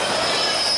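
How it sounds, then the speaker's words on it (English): Norfolk Southern freight L11 with the GoRail heritage XD60E locomotive passing close by in Ohio, its wheels squealing loudly and steadily over the rails. "L11 from Fostoria to Bellevue, Ohio would run with NS6963 GoRail Heritage"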